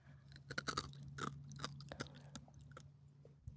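Crunchy chewing of a crystal-shaped food bite, close and quiet, with sharp irregular crunches early on fading into softer mastication.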